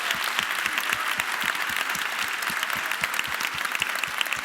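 A crowd at a Christmas event applauds, many hands clapping in a dense, continuous patter at a steady level throughout.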